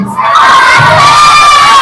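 Children cheering and shouting together at a storytelling event, a loud, dense burst of excited crowd noise that swells quickly and holds steady.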